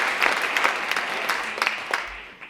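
Conference audience applauding the speakers at an event about saving bees and biodiversity, a steady wash of clapping lasting throughout and tapering slightly near the end.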